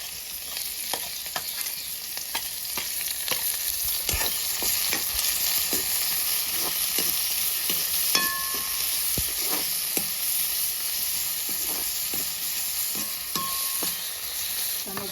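Cumin and chopped onions frying in a pan for a vegetable dish of drumstick flowers, a steady close sizzle with scattered clicks of a spoon stirring and no talk.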